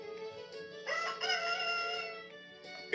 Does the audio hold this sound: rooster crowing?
yes